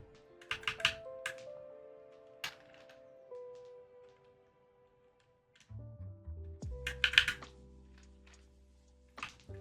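Typing on a Glorious GMMK 96% keyboard with linear switches, clusters of quick close keystroke clicks in irregular bursts with pauses between, alone under a faint background tone.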